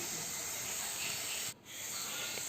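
Ingredients for amla pulihora frying in a pan give a steady, close sizzling hiss that briefly drops out for a moment before resuming.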